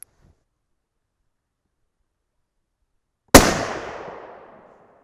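A single sharp rifle shot from a 300 Win Mag, loud and close after several seconds of silence, with a short fading echo.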